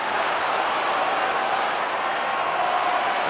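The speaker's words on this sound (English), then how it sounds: "And the crowd's on their feet, saluting the team after a hard-fought effort this evening" A simulated arena crowd cheers in the NHL 24 hockey video game, a dense, steady roar that fills the whole clip without breaks.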